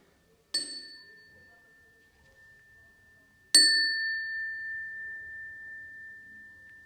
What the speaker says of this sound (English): And also this bell that also was my parents from some trip.